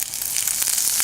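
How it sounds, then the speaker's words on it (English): Mixed vegetables sizzling in a pan over a Vargo titanium wood stove, a steady close hiss of frying with faint crackles throughout, heard alone. "Can already hear it starting to sizzle."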